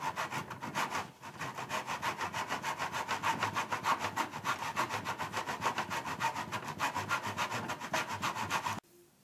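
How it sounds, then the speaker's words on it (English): Hand saw cutting wood trim in a miter block, a fast steady rhythm of rasping push-pull strokes, close and loud, running almost continuously before stopping abruptly. "what we're going to do here is cut this trim. I'm using the block in place of a chop saw."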